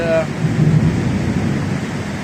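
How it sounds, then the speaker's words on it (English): A tropical afternoon thunderstorm rumbles low and heavy with rain pouring, a close, loud roll of thunder filling the short stretch after a brief tonal sound at the start. "These afternoon thunderstorms are real typical for the tropics, and it'll rain like crazy"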